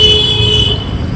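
Road traffic at Mehsana market on Holi: close, loud engine rumble with a sustained vehicle horn tone over the noise.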